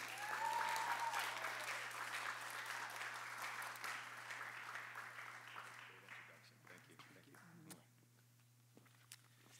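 An audience claps for a college president at a Kennedy-King College event, applause fairly loud at first, then thinning and fading toward the end with scattered claps, over a low steady hum.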